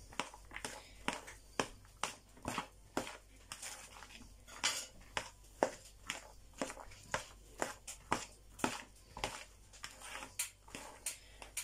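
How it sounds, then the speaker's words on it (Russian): Chopped ham is tossed thoroughly through a salad with a utensil against a bowl, a quiet, regular series of clinks and scrapes repeating roughly every half second, with no talk. "Нарезали мы ветчинку и добавляем сюда салатик наш. Сейчас все это тщательно с вами перемешаем."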